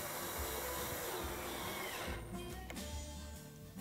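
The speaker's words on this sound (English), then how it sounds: "all I got to do is just drive some screws in." Power driver whirring as it drives screws into a wooden accessory clamped to a table saw fence: a continuous loud motor drone that eases and shifts pitch partway through, close up, with no speech.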